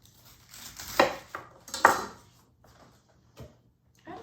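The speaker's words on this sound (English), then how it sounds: "I always will cut the head of cabbage in half, then in quarters." A knife cuts through a head of cabbage on a board for coleslaw, with two distinct crunching chops close up, then quieter knocks and handling sounds in a calm kitchen.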